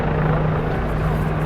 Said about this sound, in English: As everybody around me looks up at the helicopter.